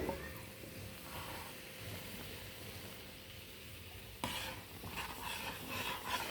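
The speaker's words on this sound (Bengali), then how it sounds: "দেখুন আমি নেড়ে যাচ্ছি এরকমভাবে নেড়ে যেতে হবে" Sugar syrup is stirred continuously into fried rice flour, giving a steady hissing sizzle with scraping strokes that grow louder and more rhythmic in the second half.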